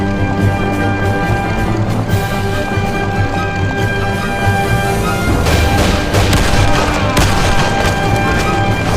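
Dense gunfire from a Mafia video game mission, rapid bursts of shots and booming impacts layered over one another, loud and sustained for the whole stretch with no speech.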